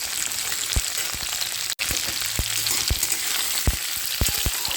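Vegetables such as beans and carrots are stirred and fried in a pan for a spring onion greens dish: constant close sizzling with regular sharp scrapes and taps of the spatula, one brief dropout, no talking.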